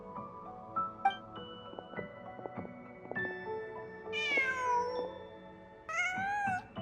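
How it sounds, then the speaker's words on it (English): A cat in Genshin Impact meows several times, plaintive calls over a steady layer of game music, the mews rising and bending in pitch and growing louder toward the end. "Huh. Just a cat."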